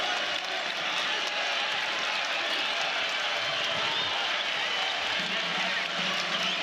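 College basketball arena crowd in Norman at an Iowa State versus Oklahoma game, a steady wash of applause and cheering, loud and continuous, with a commentator's voice faintly beneath.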